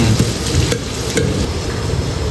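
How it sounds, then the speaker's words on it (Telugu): Onions frying in a pan, stirred continuously with a utensil, giving a steady close sizzle with soft scraping and stirring, no voices. "ఉల్లిగడ్డలు వేసుకున్నాం ఇక మంచి మంచిగా కలుపుకొని"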